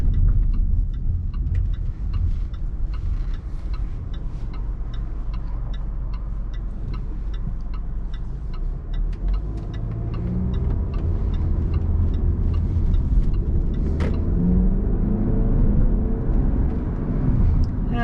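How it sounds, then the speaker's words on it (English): Inside a 2019 Range Rover Evoque with a 2-liter four-cylinder turbo engine, a turn signal ticks steadily at first. The engine then swells into a low, rising hum as the car accelerates away from a turn. "The power is being delivered to you by a 2-liter 4-cylinder turbo motor."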